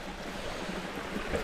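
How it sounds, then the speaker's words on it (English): Small waterfall in snow on a mountain (Ben Narnain), a steady broadband rush of flowing water, continuous and fairly close, with no voices. "This is going to be a wee waterfall at the end."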